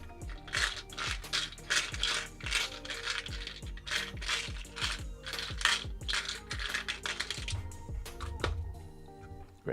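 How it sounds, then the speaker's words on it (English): Tarot cards being shuffled by hand in quick, crisp riffling bursts, each flick a short papery snap, repeating steadily and close up with no talk over it. "Time for shuffling."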